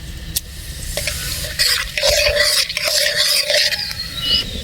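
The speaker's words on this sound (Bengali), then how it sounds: "কালো জিরে ফোড়ন দিয়ে দেব।" Whole garam masala spices and nigella seeds crackle and sizzle in hot oil in a karahi for an egg poach curry, a close, busy frying hiss with spatula stirring scrapes, growing louder partway through.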